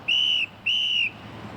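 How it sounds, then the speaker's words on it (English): A crossing guard in a school zone blows a piercing whistle in two long, loud blasts, each a bit under half a second, with a short gap between them and quiet afterward. "Her ear-piercing whistle cannot be ignored."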